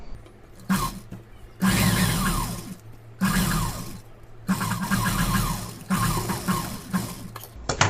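A sewing machine stitching the back neck of a pot-neck blouse whirs in four or five short, loud bursts separated by quiet pauses, with a rhythmic mechanical chatter during each run.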